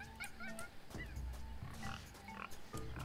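Video game pig grunts and oinks, from Tales of Monkey Island, repeat over a steady background bed, several short snorts in quick succession, moderately loud and close.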